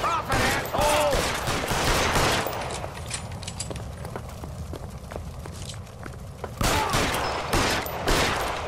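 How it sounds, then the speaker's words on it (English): Gunfire in the video game L.A. Noire: loud, dense bursts of shots crowding together near the start and again at the end, with a thinner stretch of scattered shots and footsteps between them, under occasional talk. "I'm gonna pump some rounds into his ass"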